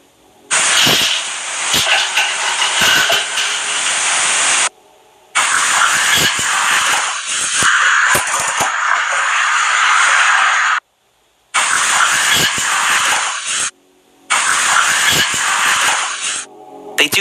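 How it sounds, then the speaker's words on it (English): A cat hissing at night, picked up by a sleep recording app in a home with three cats: loud, harsh broadband hissing bursts lasting several seconds each, separated by brief silent gaps, with no talking. "It's definitely a cat. I mean, it's a hiss and a cat"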